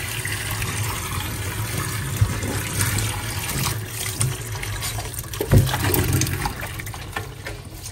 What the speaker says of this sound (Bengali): জায়গাটা ভালো করে লিকুইড দিয়ে ধুয়ে নিলাম